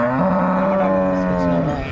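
An HF dairy cow at the Punganur cattle market gives one loud, close, drawn-out moo that holds steady for about two seconds before fading slightly.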